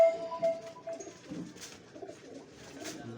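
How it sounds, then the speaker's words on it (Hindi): Several pigeons nearby give soft, rolling coos in overlapping bursts, fairly quiet and alone with no talk. "बड़े रिजल्टेड कबूतर हैं दोस्तों"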